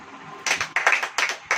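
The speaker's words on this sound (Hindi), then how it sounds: "ताली हो जाओ" A church congregation claps in short rhythmic bursts, several quick rounds of hand claps in steady succession, fairly close and clear.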